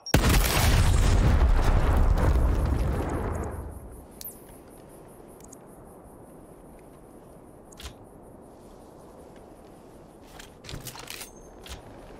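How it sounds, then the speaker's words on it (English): A frag grenade explosion in the video game Gears Tactics, one loud close blast that rumbles for a few seconds and then fades into quiet ambience with small scattered clicks. "Frag out!"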